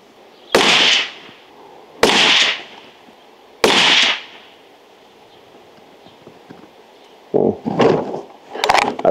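Three sharp rifle shots from a Strasser straight-pull rifle firing Winchester 172-grain ammunition at a range, evenly spaced and loud, each with a short decay, followed by softer clattering handling noises.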